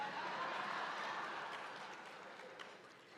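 Audience applause at a business diversity conference, a steady wash of many hands clapping that sounds distant and fairly soft and slowly fades over a few seconds.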